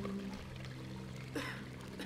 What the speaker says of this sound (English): my splashing might alert people